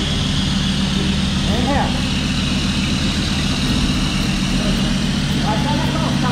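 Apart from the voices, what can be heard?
Ford Ranger 3.2 engine revving with straight-through exhaust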